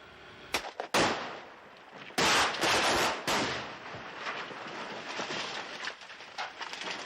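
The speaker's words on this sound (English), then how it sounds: "the powerful explosives will be simultaneously detonated" Sharp explosive blasts from simultaneously detonated explosives on a film set, several in a row, followed by a rumbling roar of debris and lingering noise that slowly settles, heard from a distance.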